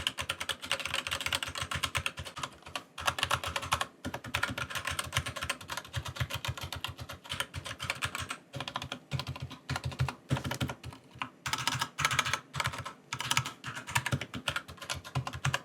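Rapid typing on a Razer Huntsman Tournament Edition keyboard with opto-mechanical linear Gateron red switches fitted with O-rings, a close, steady stream of soft clacking keystrokes with short pauses between bursts.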